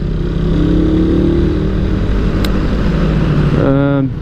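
A Honda Raider 150 motorcycle engine with a new Tsukigi exhaust pipe hums at steady revs with a rising whine, then a sharp throttle change near the end; loud and close.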